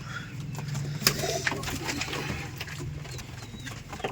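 Rajshahi giribaz pigeons kept at home, soft low cooing repeating in the background amid a few brief sharp knocks and rustles, fairly faint and close.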